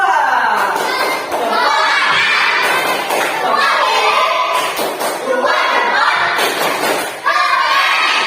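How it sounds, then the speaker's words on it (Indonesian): A classroom of schoolchildren clap for a student group, with loud cheering, shouting and thumps layered into a dense, continuous din. "Beri tepuk tangan untuk kelompok 2"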